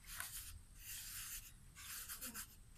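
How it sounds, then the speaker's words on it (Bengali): Flour being rubbed by hand over a carved wood surface, soft close scratchy strokes in several bursts with short pauses between them. "আমি ঠিক কাঠের উপরটা সুন্দরভাবে ঘষে দেব।"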